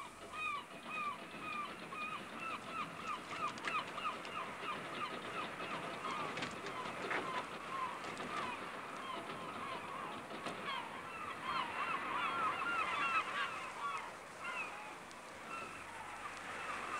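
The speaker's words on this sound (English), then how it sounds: "Some hungry gannets are there too." Gannets gathering near a fishing trawler as its gear is hauled in, giving repeated harsh honking calls that overlap steadily, fairly close, over a low background rumble, with no talking.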